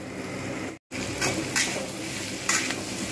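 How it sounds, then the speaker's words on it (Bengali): Potatoes, taro and tomatoes fry in a pan with a continuous close sizzle, broken by a brief silent gap and a few louder bursts of stirring and spattering. "আলু, কচু এগুলো কিন্তু আমি কিন্তু খুব ভালোভাবে এগুলো ভেজে নেব"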